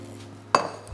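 A little frying pan knocks once with a short, close metallic clink against the hob amid a quiet kitchen hum.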